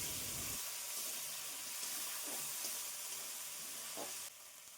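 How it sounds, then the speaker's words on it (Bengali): A curry masala for a Bengali fish curry with drumsticks and potato bubbles and hisses in a pan just after a splash of water goes in. A steady wet sizzle runs throughout, with faint stirring scrapes and a drop in level near the end. "এবার ভালো মতন আবার নাড়াচাড়া করে নেব।"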